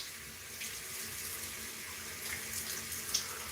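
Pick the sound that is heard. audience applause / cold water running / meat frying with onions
cold water running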